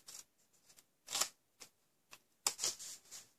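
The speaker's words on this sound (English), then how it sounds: "I'm going to cut up the score line." Scissors snip through cardstock paper along a score line in a series of short, close cuts with brief pauses between them, each crisp snip quick and isolated.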